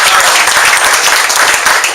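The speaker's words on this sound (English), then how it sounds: "Let's give him a round of applause." Loud, sustained applause from an audience at a Silicon Valley business launch event in San Jose fills the whole stretch, dense steady clapping with no pauses.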